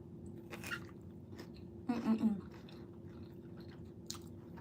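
Spicy jalapenos being chewed during a Texas mukbang, a brief close burst of crunchy, wet chewing mid-clip against quiet room hum, with faint smacking sounds before and after.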